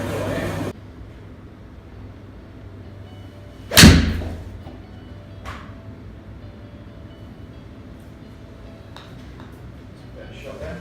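A golf shot hit with a Cobra ONE length club gives one sharp, close strike followed by a fading whoosh, with outdoor ambience and a brief voice around it.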